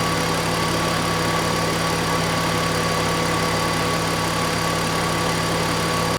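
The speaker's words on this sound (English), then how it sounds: "that was 15 minutes with the engine flush idling" Car engine idling with Liqui Moly engine flush added before an oil change: a steady, even hum with constant tonal drone and no variation, close and alone.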